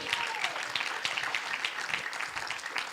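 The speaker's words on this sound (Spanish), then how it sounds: "Fuerte aplauso para Cristo en esta noche." A congregation gives sustained, dense applause during an evening church service, a steady wash of many hands clapping that fills the room without pause.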